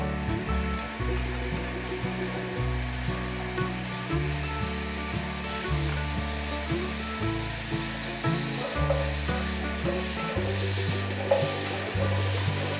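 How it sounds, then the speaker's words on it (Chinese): Mushrooms dry-frying in a hot pan, a continuous steady sizzle with stirring and scraping sounds, fairly close and alone without talk. "接下来干煎蘑菇。"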